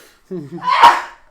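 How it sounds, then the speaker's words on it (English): One short sneeze comes close and loud, preceded by a brief vocal sound, during a live tool talk show. "It made me sneeze."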